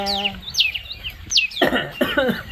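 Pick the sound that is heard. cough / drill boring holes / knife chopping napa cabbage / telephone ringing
cough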